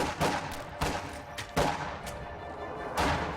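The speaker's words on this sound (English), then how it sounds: "Small arms fire!" Small arms gunfire crackles in a strategy game battle, several sharp shots and short bursts at irregular intervals, moderately loud over a busy background.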